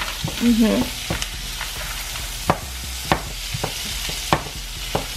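Cashews being stirred together with a marinade in a bowl for butter chicken, giving soft wet scraping and periodic sharp spoon taps against the bowl's side, close and steady.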